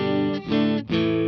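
A Fender Vintera electric guitar played through the neck pickup sustains rich, full chords with two brief breaks between strums, loud and close, with a slightly driven, saturated tone.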